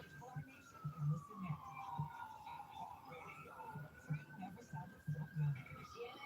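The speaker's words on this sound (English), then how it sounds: "Just heard the siren" A distant siren wails faintly in the background, its tone slowly falling and rising, beneath quiet, soft-spoken talking.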